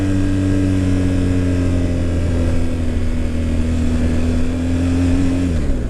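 A motorcycle with dynamic and automatic suspension modes cruises along under a steady, loud engine drone, its pitch holding level and then dropping slightly near the end with no talk.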